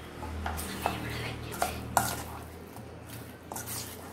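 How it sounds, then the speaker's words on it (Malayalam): Soya chunks being mixed with masala in a bowl for a crispy soya fry: a spoon scrapes and clinks against the bowl several times, with sharper taps near the middle, fairly quiet and close, with no voices. "ഇത് നന്നായിട്ടൊന്ന് മിക്സ് ചെയ്ത് കൊടുക്കാം"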